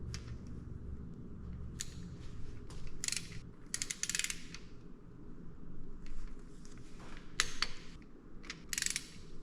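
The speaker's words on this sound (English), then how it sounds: "So now I'm gonna torque these down." A torque wrench tightens bolts on a Mellings 10296 oil pump fitted to an LS engine, with irregular ratcheting clicks and metallic mechanism bursts over a low background hum, close by and without speech.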